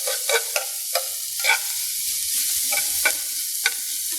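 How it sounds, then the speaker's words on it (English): Cooked shrimp and cabbage sizzle in a pan, a soft steady hiss broken by several sharp stirring scrapes and clicks, close and without talk. "Right now, we're just heating it up in the pan with the cabbage,"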